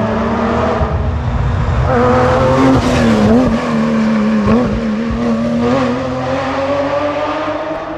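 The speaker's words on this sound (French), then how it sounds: "Ah oui, c'est la Porsche." A Porsche rally car roars loudly past at the Rallye Ardennes 2022, its engine note rising and falling through gear changes with tire squeal, close and dominating for the whole stretch.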